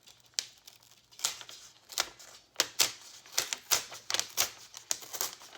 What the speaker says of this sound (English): now I'm going to tear out 8 pages.